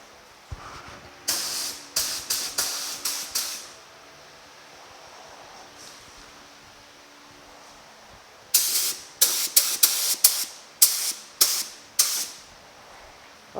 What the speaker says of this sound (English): It's important to get all these hard to reach spots first and then spray the body.